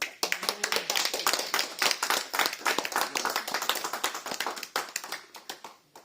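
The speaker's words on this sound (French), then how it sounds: "Nous allons juste applaudir" A congregation claps at the close of a Sunday church service, a steady run of sharp, dense hand claps filling the room for several seconds with no talking over it.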